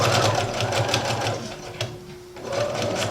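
A domestic sewing machine runs steadily while stitching a skirt seam at a 3.5 stitch length, its motor whirring close and loud with a rhythmic mechanical hum. It pauses briefly near the end before starting again.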